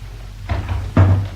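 A door closes in an audio drama with two dull thuds, a lighter knock followed about half a second later by a heavier shutting thump, near and alone.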